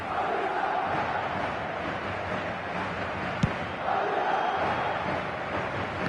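Stadium crowd in the eFootball video game, a broad continuous roar with swelling chants that rise again near the end and one sharp knock midway, steady and fairly loud.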